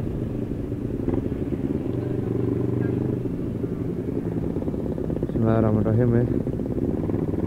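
Honda CBR600RR and CBR250RR motorcycles rumble at steady idle, then one revs sharply near the end, loud and close, while someone speaks briefly over the engine noise.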